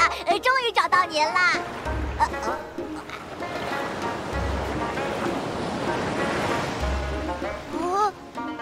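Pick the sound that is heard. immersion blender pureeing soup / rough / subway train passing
rough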